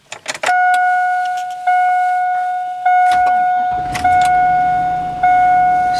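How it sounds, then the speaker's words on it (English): A Chevy Avalanche engine cold-starts after a few short clicks and rattles, then a high tonal chime sounds repeatedly in even bursts over a low idling rumble. "yeah, let's just start it up."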